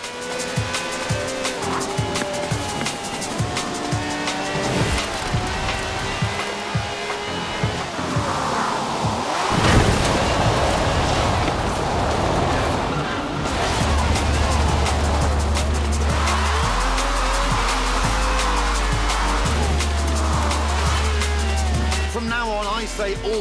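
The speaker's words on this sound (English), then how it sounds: "This has a V12 with over 750 horsepower, plus bucket seats." V12 engine of a car over 750 horsepower with bucket seats in Forza Horizon 4, a loud continuous roar with rising and falling revs and tire noise, steady throughout with a brief surge midway.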